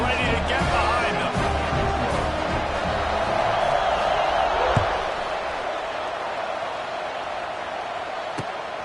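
A stadium crowd at a Baylor at Iowa college football kickoff keeps up a steady roar that swells, then eases off, under a male announcer's play-by-play commentary. A single sharp thump is heard partway through.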